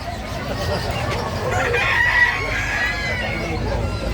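A rooster crows loudly and close by, its drawn-out call rising over a steady background din.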